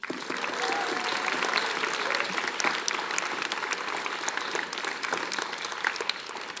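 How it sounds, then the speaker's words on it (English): A crowd at a book talk applauds steadily, with dense clapping and a few sharp individual claps standing out, continuing at an even level from start to finish. "Please give me a huge round of applause for Ben and Hugh."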